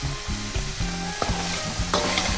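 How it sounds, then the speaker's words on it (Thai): Beef stir-fries with cumin leaves and large red chillies in a hot pan, giving a continuous bright sizzle over a repeating low, clunky pulse, with occasional sharper knocks near the end and no voices. "พอผัดจนใบยี่หร่าพอสดเราก็ เสร็จเป็นที่เรียบร้อยนะครับ"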